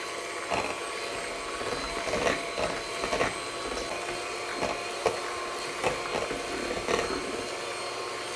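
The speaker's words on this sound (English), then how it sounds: "And just mix this through. to make the batter." Banana and blueberry paleo pancake batter being mixed in a bowl, with soft repeated scraping and tapping strokes at an irregular rhythm over a constant background whir.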